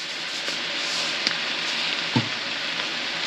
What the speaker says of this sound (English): I'm going to cook down the spinach here